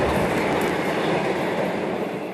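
Older trains thunder past in the Newport rail yards with a loud, continuous close rumble and rattle that fades slightly toward the end.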